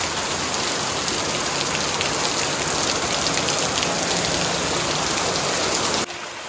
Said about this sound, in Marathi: जेव्हा थेंब पडतात ना त्याचे तुषार उडतात ना त्या असे व्हाईट व्हाईट छान दिसतात बघा